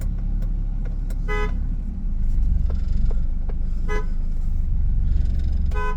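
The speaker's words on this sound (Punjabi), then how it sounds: "ਇਹਦਾ ਚਾਰੇ ਪਾਸੇ ਹੀ ਹਾਰਨ ਕੰਮ ਕਰ ਜਾਂਦਾ ਇਹਦਾ" Car horn sounding from a newly fitted replacement steering wheel, several short toots at separate moments over a steady low engine hum, close and clear with no talking.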